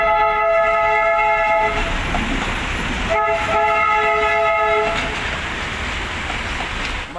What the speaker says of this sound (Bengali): এই দেখো টয় ট্রেনটা আসছে,